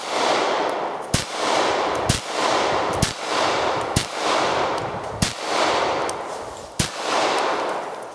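A SIG 226 pistol fires about eight evenly spaced shots at steel plate targets outdoors, roughly one per second, each crack loud and sharp over a steady wind-like hiss.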